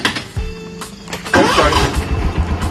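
A buggy engine cranks briefly, then catches and starts, settling into a loud, close, rumbling idle.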